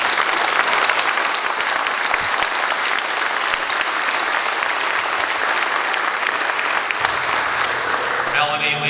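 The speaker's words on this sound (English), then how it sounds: "I'd just like to give a special round of applause for our veterans in the audience." Sustained, dense applause from an audience at a U.S. Coast Guard Air Station Astoria change of command ceremony, steady and loud throughout with no break.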